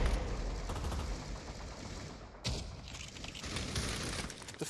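Gunfire in the virtual-reality shooter Pavlov VR on a team deathmatch map, a run of rapid shots and sharp cracks at moderate level, with one stronger report midway.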